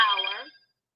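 Mobile phone ringtone, a single short electronic trill of bright ringing tones lasting about half a second before cutting off to silence.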